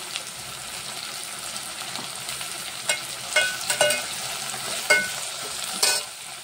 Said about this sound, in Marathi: मीठ घालून आपण परतून घेऊया व्यवस्थित.